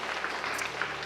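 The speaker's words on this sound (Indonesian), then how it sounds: "tepuk tangan buat Tuhan Yesus." A congregation claps during a church service in Bengkulu, a brief, dense burst of applause heard from within the crowd.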